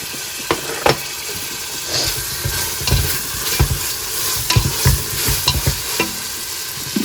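Ginger frying in oil in a pan for mutton biryani, a steady close sizzle broken by repeated scraping and clattering stirs, loud and alone with no talk.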